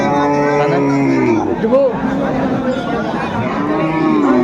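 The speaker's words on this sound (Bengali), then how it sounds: "সুন্দর সুন্দর গরুগুলো কালেকশন করতেছে মমিনুল ভাই" Cattle low loudly and repeatedly at a busy livestock market, with deep drawn-out moos overlapping one another above a murmur of crowd chatter.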